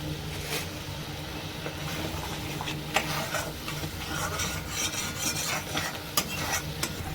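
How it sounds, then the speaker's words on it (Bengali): A pan of potato and cauliflower curry with spices sizzles under continuous stirring, with scraping and sharp utensil clicks against the pan, fairly close and steady. "এবার আমি হাফ কাপ একটু জল দিচ্ছি"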